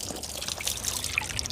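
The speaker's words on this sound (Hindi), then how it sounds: "मतलब इतना ठंडा पानी आ रहा है।" Cold spring water trickles and drips from a village water spout in the Pahadi hills, a close, uneven patter of small splashes heard briefly on its own.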